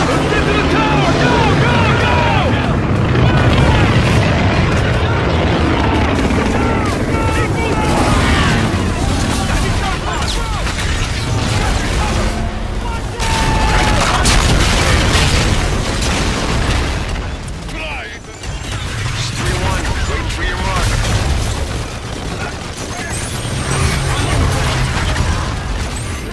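Rolling booms and bursts from air strike explosions in Call of Duty Infinite Warfare, loud and continuous with crackling debris and mechanical noise, while soldiers talk over the barrage.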